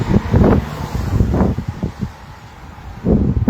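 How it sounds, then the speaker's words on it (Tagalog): Strong wind buffeting the microphone in loud, rumbling gusts that rise and fade, with a lull midway before picking up again. "Ang lakas kaya ng hangin."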